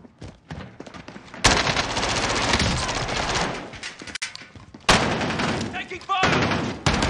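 Gunfire in a video game shooter, dense bursts of rapid automatic fire that come loud and close, broken by short pauses, with voices heard in between.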